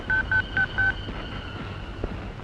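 Four short, clear keypad tones beep in quick succession as a telephone number is dialed, followed by quieter room noise and faint clicks.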